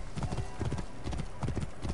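A horse trots in Assassin's Creed Origins, its hooves beating a quick, even clip-clop on hard ground, close and steady, with a voice talking faintly under it.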